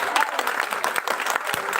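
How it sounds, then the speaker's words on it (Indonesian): Audience applause in a university faculty hall, dense continuous clapping, loud and close, with a voice faintly under it. "Lain tepuk tangan."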